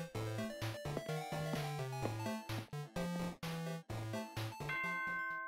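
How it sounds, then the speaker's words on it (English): A melodic electronic chime rings out in the video game Danganronpa 2, a series of bright ding-dong tones stepping through a short tune for about five seconds, clear and alone with no voices. "Ding dong bing bong."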